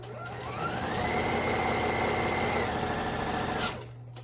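A sewing machine stitches fabric in one continuous run, whirring up to a steady rapid hum and then stopping near the end.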